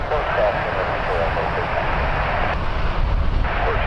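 An airliner departs at Toronto Pearson airport at night, a steady broad jet roar heard from a distance under continuous talk.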